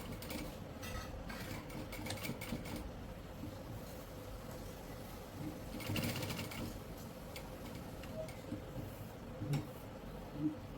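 A sewing machine runs in a boutique while stitching a fabric band strip, giving a faint, steady mechanical whir that continues without a break and without voices.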